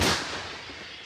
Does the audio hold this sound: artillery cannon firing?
yes